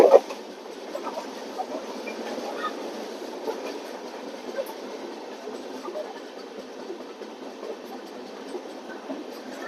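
The Rajendra Nagar Howrah Express runs past at a station with a steady, moderately distant rumble and rolling wheel noise, with faint background chatter.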